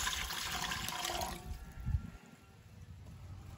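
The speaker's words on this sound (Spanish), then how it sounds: "Voy a poner 1 litro de agua a hervir." About a litre of water pours into a cooking pot to be boiled, a splashy gush lasting just over a second that stops abruptly, followed by a low thud and quiet room tone.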